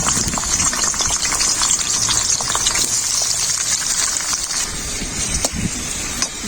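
Papaya pieces dropped into hot white oil in a wok sputter and bubble loudly in a dense, continuous crackle, with a few sharper pops near the end and no speech.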